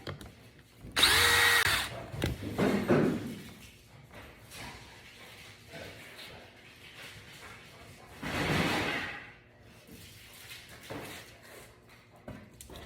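A Milwaukee cordless drill set to drill mode drives a screw into wood in two short bursts a few seconds apart, close and fairly loud, with quieter handling clatter between them.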